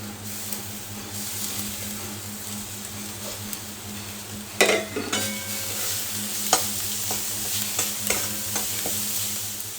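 Ginger and garlic frying in a pan for pepper chicken, a constant sizzle with a steady low hum beneath, then a burst of spatula scrapes and clicks partway through.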